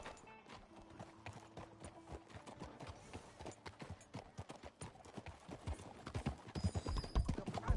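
A horse gallops in a PS4 video game, with rapid, even clip-clop hoofbeats that build louder toward the end and a brief whinny among them, heard up close with no speech over it.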